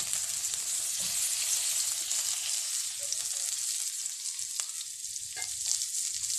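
Margarine sizzles and fries in a hot wok, a steady bright hiss with a few soft stirring clicks, close and continuous without talk.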